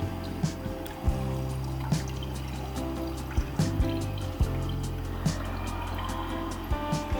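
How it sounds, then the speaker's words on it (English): Coolant pours from a factory expansion tank on a Ford S650 Mustang into a container, a steady liquid trickle and gurgle with a few light clunks and taps, close by and alone with no talk. "pour it out through the smaller opening."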